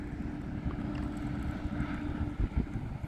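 Steady outdoor wind roars and buffets a microphone while an E-flite Valiant 1.3m RC plane is flown, a constant rumbling broadband noise with a few stronger gusts near the end.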